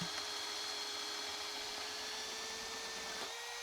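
A Bosch Daredevil paddle bit bores into wood at slow speed, a steady whirring drone with a constant motor tone that holds throughout, dipping briefly near the end.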